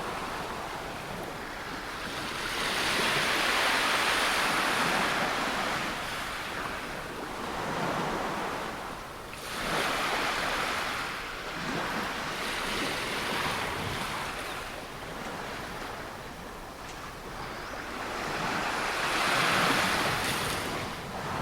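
Ocean waves roll onto the shore at Coney Island, New York, a steady broad surf roar that swells and recedes in slow surges, with wind blowing over it and no voices.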